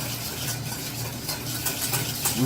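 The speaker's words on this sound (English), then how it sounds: "I'll stir that up until actually the sugar dissolves" Tempura sauce of soy sauce, lemon juice and sugar being stirred in a container, a continuous close swishing and scraping with faint utensil clinks, steady and moderately loud with no talking.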